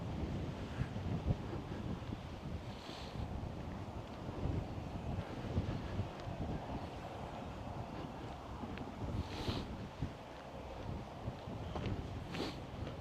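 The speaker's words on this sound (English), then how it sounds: "it's very windy" Strong wind on Goondi Hill, Innisfail, buffets the microphone in a constant low rumble, with occasional gusts louder than the rest.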